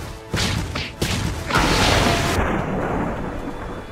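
Rumbling thunder from lightning in a Delicious in Dungeon mobile game on Android: a loud, broad crash builds over about a second and rolls on steadily as a sustained roar for the rest of the stretch, with no talking.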